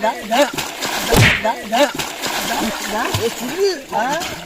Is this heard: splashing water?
yes